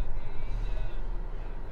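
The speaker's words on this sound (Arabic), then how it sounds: "بنسمع صوت المحرك" A Great Wall Wingle 5 pickup's engine idles steadily, a low continuous rumble with a faint higher whine on top, close by and unaccompanied by talk.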